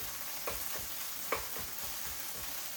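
Onions and carrots sizzle steadily in a hot pan for chicken fried rice, a constant soft frying hiss with a couple of faint stirring scrapes.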